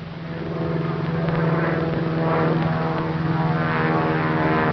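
A propeller airplane in a 1933 film climbs quickly, its steady, loud engine drone rising and swelling slightly without a break, with no voices over it.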